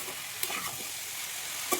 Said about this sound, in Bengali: চাল কুমড়োগুলো মশলার সঙ্গে ভালো করে মিশিয়ে নেব।